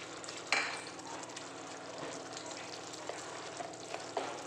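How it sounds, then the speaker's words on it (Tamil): Tomatoes sauté in a pan for a Madurai-style tomato thokku, giving a steady, close sizzle and crackle with occasional stirring scrapes and small pops, continuous and without speech. "தக்காளி இப்போ நல்லா வதங்கி வந்துருச்சு."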